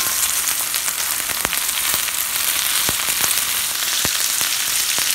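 Tofu sizzles in a hot pan with garlic and green onions, a steady loud hiss broken by sharp crackling pops.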